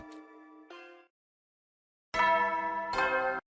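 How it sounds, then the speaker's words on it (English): A nighttime announcement chime in the video game The Hundred Line: a clear two-note bell tone, then a pause, then a louder, fuller pair of ringing chime notes. "The nighttime announcement played like normal."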